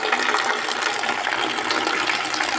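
Mung beans being rinsed in water at home for sprouting, a steady broadband splashing and sloshing that runs continuously and fairly loud for the whole moment with no talk over it.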